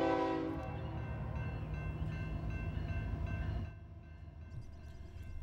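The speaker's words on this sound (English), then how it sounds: "Another coal train, this one loaded and destined for Alabama Power in Tupelo, blares its horn for the Highway AB crossing." A loaded BNSF coal train bound for Alabama Power sounds its horn for a highway crossing, a loud sustained multi-tone blast that cuts off, leaving the steady rumble of the moving train.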